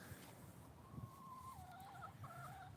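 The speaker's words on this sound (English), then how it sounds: "these chickens are for eggs." Egg-laying chickens cluck softly in the distance, with a low hum of background noise around them.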